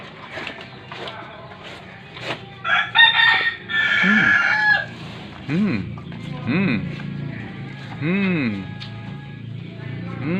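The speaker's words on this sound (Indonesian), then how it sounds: "itu suara ayam" A rooster crows several times and chickens cluck nearby on a farm where cattle are kept, the calls rising and falling close by while a person talks over them.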